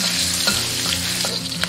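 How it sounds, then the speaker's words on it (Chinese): Ginger and garlic stir-fry in hot cooking oil, a steady loud sizzle with soft stirring scrapes throughout and no talking. "加入姜蒜炒香"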